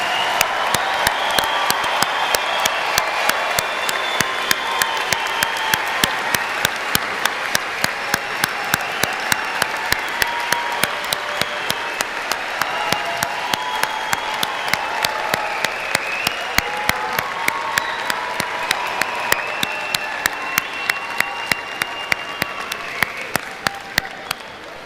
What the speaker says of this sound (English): Can we get a round of applause for all of our graduates?